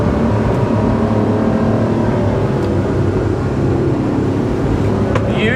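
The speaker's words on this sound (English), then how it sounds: "Listen to those motors" Boat motors drone steadily as the hull drives at speed straight into waves, a loud, continuous engine roar mixed with water rush and no talking.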